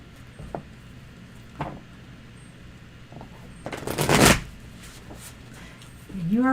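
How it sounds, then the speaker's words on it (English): Playing cards are shuffled in short bursts, quick riffling rattles spaced apart with one longer, louder shuffle in the middle, quiet and close, as voices speak in between. "I don't know if you were supposed to shuffle first"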